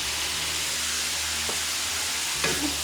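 Tomatoes and bell peppers cook in a pan for a ground beef meat sauce, giving a steady soft broadband sizzle with a couple of faint stirring clicks near the end, no voices.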